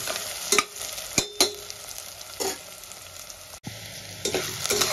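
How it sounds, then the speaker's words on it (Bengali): Onions fry in white oil in a pan, a close, steady crackling sizzle broken by several sharp spoon scrapes and stirring clacks, with no talk. "আমি রান্নাটা সাদা তেলে করছি, তোমরা চাইলে সরষের তেলেও করতে হবে। পেঁয়াজটা আমি আরেকটু লাল করে ভেজে নেব।"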